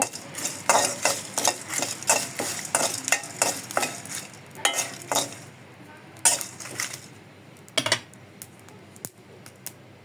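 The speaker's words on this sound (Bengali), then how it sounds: "একদম ভালো মতো ভেজে নেব" A spoon scrapes and stirs spices in a pan for kasundi mustard sauce in quick repeated strokes over a faint sizzle, pausing now and then before resuming.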